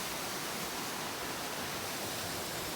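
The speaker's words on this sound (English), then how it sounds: "This is an amazing little falls." Small waterfall along a creek with a blue pool and some ice, a steady, close rushing roar of falling water with no other sounds.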